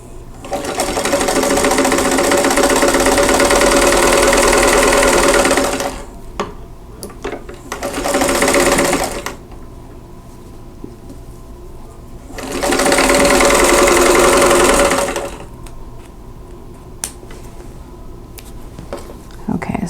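A sewing machine stitching a quilt block seam runs in three bursts of rapid, buzzing mechanical clatter, close and loud, with quieter pauses and light handling noises between runs.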